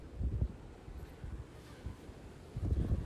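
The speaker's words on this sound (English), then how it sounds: "There's a nice breeze blowing off the ocean too." Ocean breeze on Siargao Island buffets the microphone in low, gusty rumbles that swell at the start and end, near and fairly loud, with no voices.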